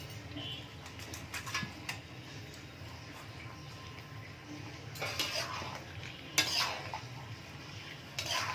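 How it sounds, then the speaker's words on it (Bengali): Fried chicken pieces are stirred in a pan for chili chicken, with scattered metallic scrapes and clinks of a utensil over a faint background, close but fairly quiet. "চিকেনগুলো দিয়ে আবারও ভালো করে নাড়াচাড়া করে"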